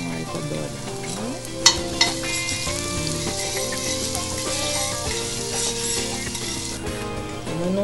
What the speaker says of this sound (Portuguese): Sim, eu frito o alho. Eu douro ele, né? Põe um alho pra dourar.